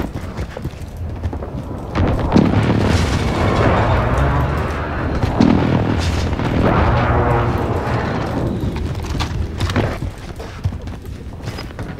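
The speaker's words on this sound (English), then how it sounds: "friendly precision airstrike inbound." Precision airstrike explosions in a first-person shooter match with bots: a burst of heavy rumbling blasts from about two to ten seconds, dense and loud, with no talk over it.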